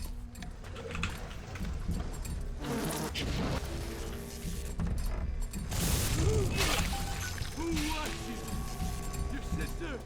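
Swarm of bees plasmid in the video game BioShock, a dense buzzing insect drone mixed with game noises and mechanical clatter, steady throughout with voices talking over it.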